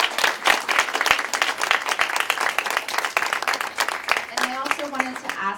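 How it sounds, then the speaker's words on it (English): An audience applauds the three competing teams at a STEM challenge event, scattered claps running under a speaking voice, with a brief tonal sound near the end. "So let's give a round of applause again for our 3 teams."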